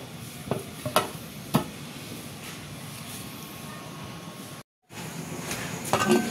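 A pot of tilapia fish stew bubbles and simmers with a soft, steady seething hiss, broken by a few sharp clinks and knocks nearby.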